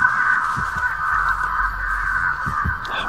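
Crows cawing in the horror game Dead by Daylight, a sustained raspy honking cry from nearby birds layered over a steady tonal drone, with a few low thumps and no speech.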